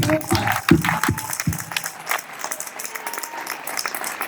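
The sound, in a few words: audience applause for a coach at a hall of fame induction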